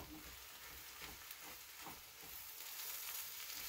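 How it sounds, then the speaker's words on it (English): Mushrooms simmering with Beyond Meat plant-based crumbles in a pan, a faint, even sizzle and bubbling hiss that holds steady throughout, with a few soft ticks and no talking. "So I'm gonna add those mushrooms to that Beyond Meat so that it can simmer in there"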